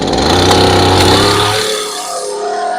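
A Stihl chainsaw engine roars loudly and close, buzzing with a rough, harmonic drone, then drops off abruptly partway through into a lower, quieter idle.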